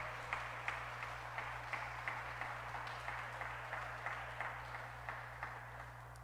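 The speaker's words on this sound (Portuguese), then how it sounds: "Dê um aplauso a Ele, aleluia," A church congregation claps in a steady rhythmic beat, the claps soft and somewhat distant over a low constant electrical hum, with no voices.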